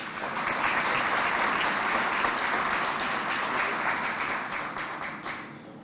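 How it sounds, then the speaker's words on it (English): A crowd at a police award ceremony applauds, dense sustained clapping that holds steady for several seconds and then thins slightly toward the end. "Another round of applause, please."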